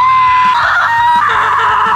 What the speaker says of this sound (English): screaming at a high pitch will break glass